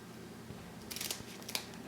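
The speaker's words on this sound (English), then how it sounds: "I prefer to use the scissors as it's easier. Any kitchen scissors would be fine." Kitchen scissors snip through tilapia fins in a few quick, close crunching cuts, faint and alone.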